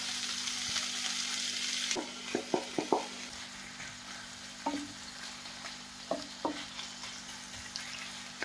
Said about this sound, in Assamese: পেন এখনত তেল দি গৰম হ'লে গোটেইখিনি বস্তু একেলগে দি ভাজি ল'ম